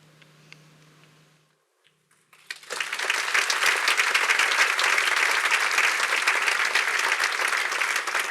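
An audience at a literary presentation bursts into applause after a quiet pause, a dense, sustained clapping that stays full and even to the end.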